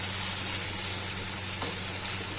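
Green chilies and garlic fry in a pan with a steady, soft, hissing sizzle and one brief clink partway through.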